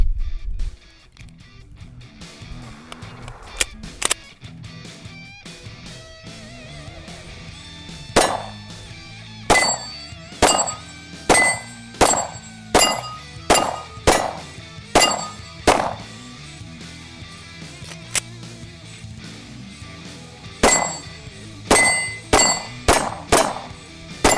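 Pistol shots from a Smith & Wesson M&P ring off steel plates and a torso target at about 10 yards, sharp clangs fired singly and then in quick rapid strings, loud and close with no talking.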